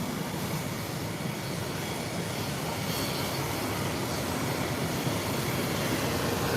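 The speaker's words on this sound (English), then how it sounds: "And it's up and away. Beautiful takeoff." ATR turboprop airliner climbing away after takeoff, a steady loud broadband roar of engines and rushing air holding constant throughout with no talk.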